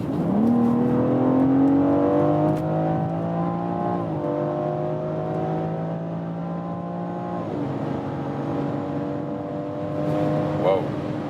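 Engine of a BMW X4 M Competition on winter tires accelerating hard: a rising, throaty drone that climbs steadily, drops sharply at two gear shifts, then climbs again, heard loud and continuous from close by.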